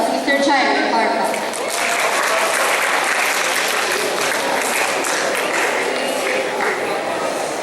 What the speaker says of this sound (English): Give a round of applause to Mr. Jairo Barba.